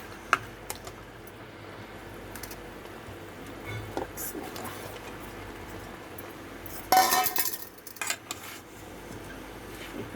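Greens for a pui shak curry are turned over in a pan, faint soft sizzling beneath scattered clinks and scrapes of a utensil against metal, with a louder burst of clatter partway through.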